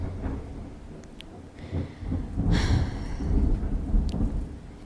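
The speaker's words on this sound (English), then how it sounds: "this thunderstorm is interrupting me" A thunderstorm with steady rain falling, low rumbling thunder swelling midway and lingering, with occasional sharper raindrop ticks over the continuous wash.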